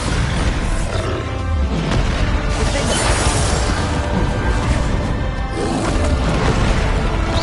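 Spell explosions in the Hogwarts Legacy video game, with the fire spell Confringo and the blast spell Bombarda, boom and crash under a dense, constant roar of combat noise, loud and continuous throughout.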